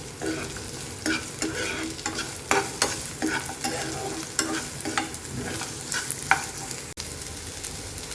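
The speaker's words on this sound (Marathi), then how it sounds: "तेल तापलं की त्यात बारीक चिरलेला कांदा," Finely chopped onion and garlic fry in hot oil in a pan, a continuous crackling sizzle broken by repeated scrapes and clinks of a stirring spoon, close and fairly quiet, with no voices.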